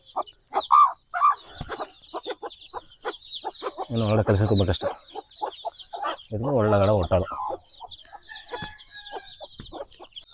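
Country chickens and their chicks on a native-breed farm cluck and peep in quick, scattered bursts, with two louder, longer calls standing out, while someone talks over and between the birds.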